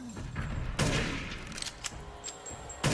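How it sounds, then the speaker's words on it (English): Sniper rifle shots in the Resident Evil Village video game, a few sharp, widely spaced cracks with short booming tails, slow fire rate. "This sniper is not upgraded, which means it's very, very slow in fire rate"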